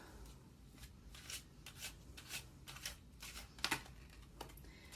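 Tarot cards shuffled and drawn by hand, a run of soft, quick riffling and rubbing bursts with one sharper snap near the end, faint and close with no talk.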